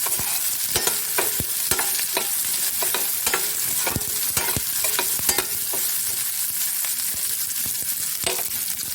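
Onions being stirred in a frying pan while making shahi paneer: steady sizzle with repeated scraping clicks of a spoon against the pan, close and fairly loud, no voices.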